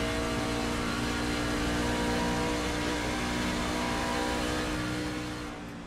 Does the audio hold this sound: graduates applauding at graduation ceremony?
no